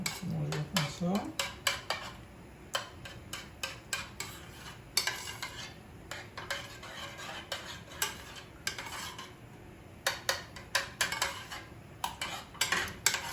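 A spoon stirs grated cheese into thick crème fraîche in a bowl for a pizza sauce, bringing quick clusters of close metallic clinks and scrapes in irregular bursts with brief quiet gaps.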